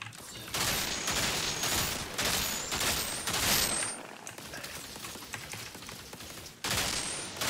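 Gunfire from the shooter video game Outriders: several long bursts of rapid automatic fire, loud and close, broken by short pauses and a stretch of quieter background noise.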